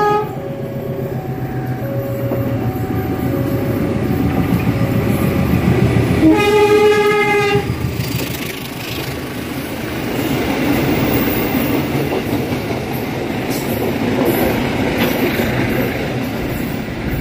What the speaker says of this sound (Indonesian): Kereta KLB Balas Kericak saat ini sudah melintas langsung stasiun Cigudapateu